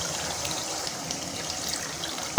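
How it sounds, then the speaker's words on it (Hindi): A steady rush of two cups of water poured into a cooking pot of chicken biryani base, an even splashing hiss lasting a couple of seconds with no voices. "अब हम इसमें 2 कप पानी ऐड कर देंगे।"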